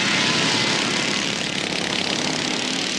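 Class-two motorized racing lawn mowers with grass buckets attached and blades removed, at a 1981 British lawn mower race, give a loud, steady engine drone that runs unbroken throughout, with no talking.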